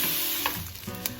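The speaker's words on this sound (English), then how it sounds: "we're gonna add in the Italian chicken sausage. We're gonna let that cook and just kind of break it apart" Italian chicken sausage sizzling in a pan as it is broken apart, a steady close frying hiss with a few soft scraping taps of a utensil.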